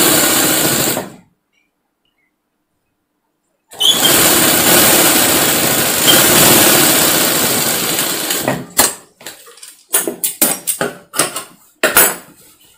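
A sewing machine stitching piping on a long frock runs in a loud, buzzing burst, stops for a few seconds, runs again steadily, then ends with a string of short stop-start stitching bursts.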